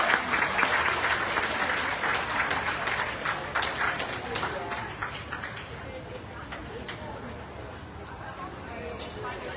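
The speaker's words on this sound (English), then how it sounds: "please give them a big round of applause as they leave the ring" Audience at a Utility Group judging ring of a dog show clapping together in steady applause, fairly loud and sustained throughout, thinning slightly toward the end with crowd noise beneath.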